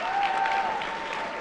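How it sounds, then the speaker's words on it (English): Audience at a school awards show clapping for student leaders, an even, sustained crowd of hands with a faint steady hum beneath it and no talking. "Please give them a round of applause."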